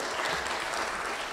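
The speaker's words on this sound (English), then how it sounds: "A round of applause for everybody." Audience clapping at an academic conference on decolonising the curriculum, a brief dense burst of steady applause from a crowd in a hall.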